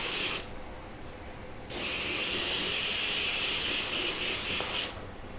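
DuraCoat paint sprayed from a spray gun onto a piece of cardboard stock as a test: a steady loud hiss for about a second, a short pause, then a longer continuous spray burst that cuts off sharply.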